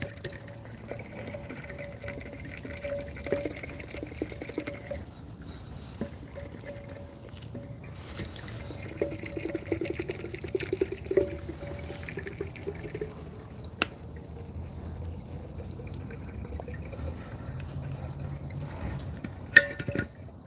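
Motor oil glugging from a quart bottle with a built-in funnel top, topping off a chainsaw for an edging mill: a faint, steady liquid trickle with small drips running through the whole stretch, with no voices.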